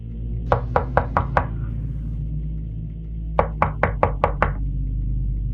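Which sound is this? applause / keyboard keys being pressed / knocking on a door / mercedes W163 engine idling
knocking on a door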